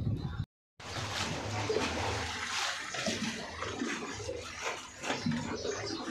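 Water pours into water drums as a continuous close rushing, splashing flow that fills the whole clip after a brief dropout near the start.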